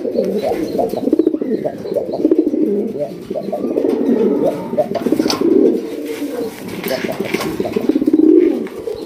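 Pigeons coo in a low, rolling chorus close by, with bursts of wing flapping rising and fading in repeated waves.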